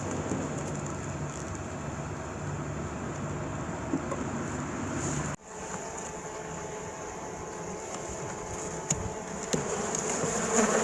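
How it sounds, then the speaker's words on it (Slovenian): Honeybees buzzing steadily in an open hive, a dense continuous drone close by with a brief dip midway, no talk. "V panju je samo ena matica, ki je mama od vseh teh čebel."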